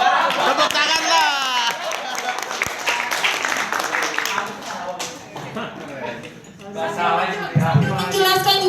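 An audience at an Indonesian presentation claps, the applause mixed with crowd chatter and a speaking voice over it, continuing at a moderate level with some dips.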